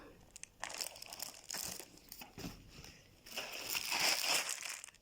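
A plastic chocolate bag crinkles and crackles in bursts over about five seconds, fairly close and moderately quiet, with short gaps between handlings and a busier stretch of rustling near the end.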